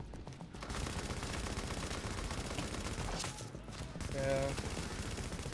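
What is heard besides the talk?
gunfire in The Division video game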